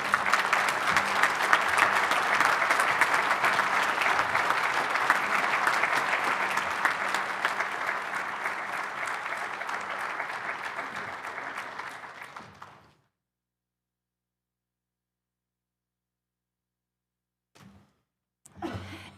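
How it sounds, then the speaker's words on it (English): An audience applauds students at a nursing stethoscope and commitment ceremony. The clapping is steady and full for about thirteen seconds, then fades into silence, with a few faint, brief knocks near the end. "let's give these students a round of applause"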